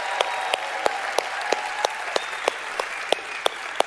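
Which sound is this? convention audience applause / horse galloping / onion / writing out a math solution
convention audience applause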